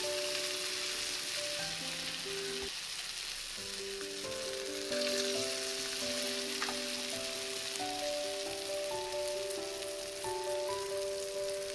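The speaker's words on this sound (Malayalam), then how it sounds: "അപ്പോൾ നമുക്കിതൊക്കെ ഒന്ന് എണ്ണയിൽ പൊരിച്ചെടുക്കാം" Potato smileys fry in hot oil, a soft, even crackling sizzle throughout with a faint tonal melody of background music over it, no speech.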